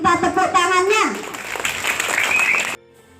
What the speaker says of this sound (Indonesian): Minta tepuk tangannya.